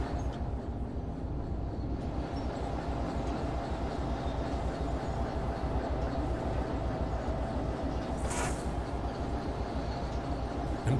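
A locomotive in the train simulator Derail Valley rumbles along at a steady pace, a dense continuous low drone with faint rhythmic wheel clatter and a brief hiss near the end, no talking.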